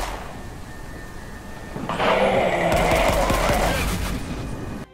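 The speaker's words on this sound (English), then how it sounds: "Each weapon has a good firing sound to it" Weapons firing in the dark shooter game Forgive Me Father, a steady roar of gunfire that starts partway through and holds for a couple of seconds over game background, with no voices.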